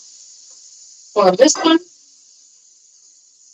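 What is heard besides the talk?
sizzling while cooking in a pan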